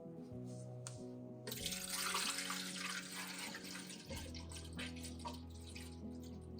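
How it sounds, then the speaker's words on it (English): Fresh water runs from a tap into the emptied tank of a De'Longhi Dinamica espresso machine, filling it to the max line; a steady, close splashing stream begins after a brief low hum and continues throughout with shifting tone. "we're gonna fill it up to the max line."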